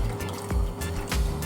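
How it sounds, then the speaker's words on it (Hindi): Tamarind water poured into a pan of Indian-style fish curry, giving a close liquid splash and trickle in a few short bursts over steady background hum. "देखो ये मैं डालूंगी पानी, इमली का पानी है"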